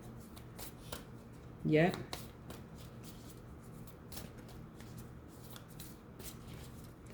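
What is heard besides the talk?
shuffling Moonology oracle cards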